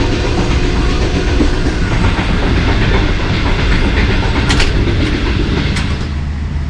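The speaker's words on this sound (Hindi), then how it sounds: "यहाँ पे ट्रेन 110 किलोमीटर की रफ्तार से जो है वो ट्रैवल करती हैं" An air-conditioned parlour car of a passenger train runs at about 110 km/h on the Kala Shah Kaku–Gujranwala section, with a loud steady rumble, rolling clatter and a few sharp rail clicks heard from inside.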